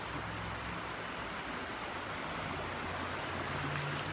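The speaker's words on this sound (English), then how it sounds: "you can actually hear that as the water is churning through these small little cascades here." Stream water churning through small gravelly cascades, a steady broadband rushing wash heard up close without pause, no talking.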